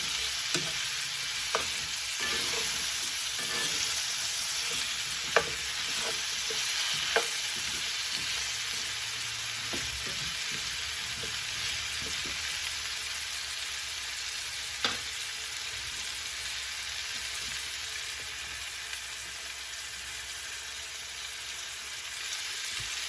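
Potatoes frying in vegetable oil give a continuous bright sizzle, with scattered clicks and scrapes of stirring over the steady crackle; no talking.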